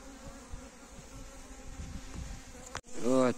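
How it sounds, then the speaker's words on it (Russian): Honeybees on an early spring cleansing flight hum steadily around the hive, with a louder, closer bee buzzing by near the end. "Вот тут активно пчелка"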